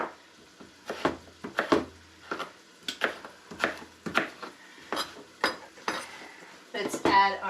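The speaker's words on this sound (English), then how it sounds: "We're just chopping our potatoes." Knife chopping potatoes on a cutting board in a kitchen, a steady series of sharp close knocks about once per half second, with a few clinks at the end and no talk.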